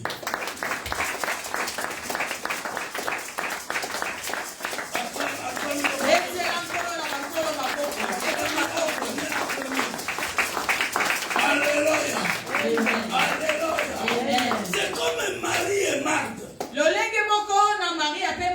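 A church congregation applauding and cheering for God during a sermon, a sustained, rhythmic clapping with voices and music over it throughout, ending in a busier burst.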